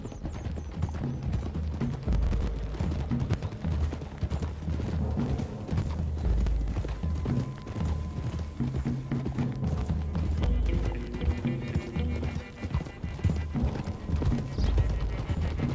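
Horses galloping in Red Dead Redemption 2, a continuous loud drumming of hooves from several riders close by, with occasional snorts over a rumbling outdoor background.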